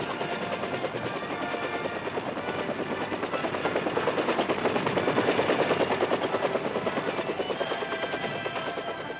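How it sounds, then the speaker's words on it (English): A military air ambulance helicopter in Vietnam beats steadily and loudly, the rotor chop swelling toward the middle and easing off again, with no voices. "Pilots and crews man their helicopters day and night, flying into hostile areas"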